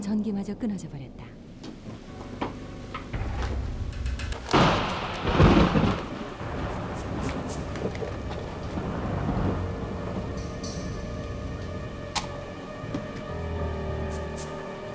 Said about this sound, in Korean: 사나운 번개에 전기마저 끊어져 버렸다.